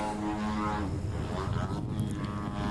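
A 60cc Aeroworks Freestyle Extra 260 QB-L model airplane drones overhead during a knife-edge spin, its engine pitch sweeping up and down as it turns, loud and continuous.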